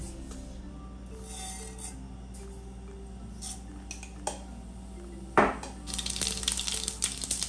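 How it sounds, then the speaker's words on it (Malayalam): Mustard seeds spluttering in hot oil in a pan on the stove: quiet clinks and pops at first, then a burst of dense, crackling popping that keeps going. "കടുകെല്ലാം പൊട്ടിക്കഴിഞ്ഞു"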